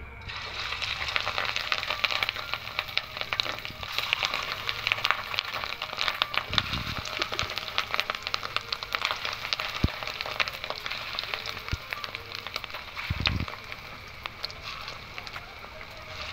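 Fish roe cutlets sizzling steadily in hot mustard oil in a pan, a continuous broad frying hiss with a couple of brief low thumps, fairly close and moderately loud.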